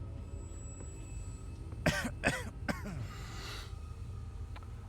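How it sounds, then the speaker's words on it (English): A character coughs from dust in a haunted hotel in the horror game Maid of Sker: three or four close, harsh coughs in quick succession over a low ambient hum. "the dust in the air makes us cough"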